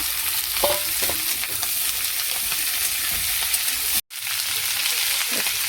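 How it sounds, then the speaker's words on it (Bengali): Vegetables for a Bengali chorchori sizzle loudly in a pan, a steady close frying hiss with scraping stirring strokes and one brief dropout. "সবজিটাকে একটু ভেজে নেব।"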